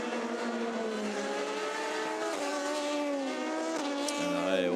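A race car driven by Arjun Maini comes into the pits during the 24 Hours of Le Mans 2019, its engine a loud, steady harmonic drone with shifting pitch, rising near the end.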